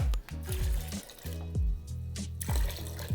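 Surplus water from a flower hydration vase is poured into a small bucket while a bridal bouquet is being prepared, coming as a few short gurgling splashes that stop and restart in uneven bursts.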